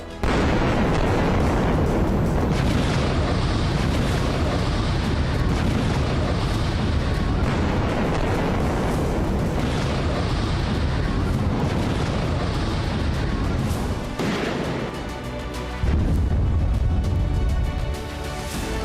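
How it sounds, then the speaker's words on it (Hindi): Explosions from Israeli bombing in Gaza form a dense, continuous roar of loud, overlapping booms and rumbling blasts that lasts throughout, with no speech. "इजरायली फोर्स ने पूरी ताकत के साथ गाजा में बमबारी करनी शुरू की।"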